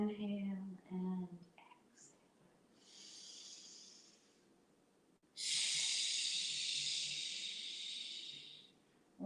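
Slow, deep breaths during a chair yoga session: a faint soft breath, then two long airy exhalations, the second louder and broader, with a short voice-like sound at the start.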